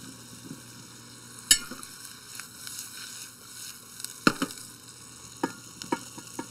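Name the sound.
shallots and pumpkin frying in a pan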